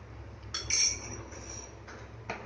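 A spoon stirs rajma masala in a metal pot, giving a few brief, quiet scrapes and clinks spread over a soft background hush, with no voices.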